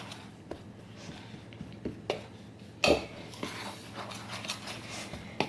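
Brown sugar is stirred into a vegan ginger biscuit mixture in a bowl: soft scraping and squishing, with scattered light clinks and knocks of a utensil against the bowl and one louder bump midway.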